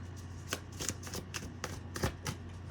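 Playing cards being shuffled up close, a series of crisp riffling bursts and soft taps, quiet and with no talking.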